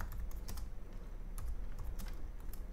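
Fingers type on a computer keyboard in a rapid, uneven run of soft clicks and taps, heard close up over a faint background hum with no voices.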